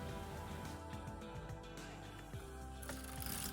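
Knitmaster Mod 100 knitting machine carriage knitting a single row of Fair Isle work, a continuous mechanical clattering and ratcheting run with steady rhythm, close and fairly loud, no talking.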